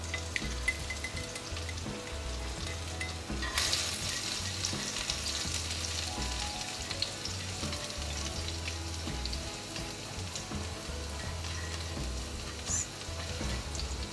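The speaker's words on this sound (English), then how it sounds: "Saute this till the chili and garlic is nice and fragrant for about 30 to 40 seconds." Garlic and chilies frying in ghee in a pot give a steady, close sizzle that crackles on throughout, with a brief stir or scrape midway and no voices.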